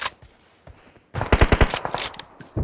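Rapid bursts of automatic gunfire in the mobile battle royale game PUBG Mobile, loud and close, after a quiet opening, several quick volleys in a row with no talk over them.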